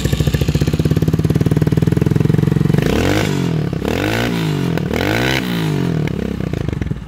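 A Vento Nitrox 250cc motorcycle engine cranks and catches, settling into a loud, steady, close-up run with a couple of sharp revs in the middle before returning to a throbbing idle, with no talking.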